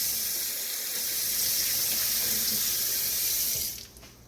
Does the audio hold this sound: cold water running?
yes